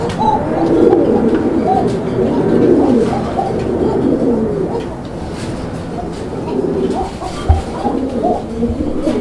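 Indian Bombai pigeons at a pigeon market, a dense murmur of cooing from many birds close by, with faint voices and background bustle underneath.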